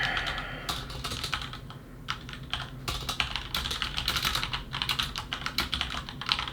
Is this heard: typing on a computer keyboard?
yes